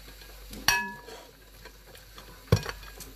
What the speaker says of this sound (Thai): I gonna slice chicken like this.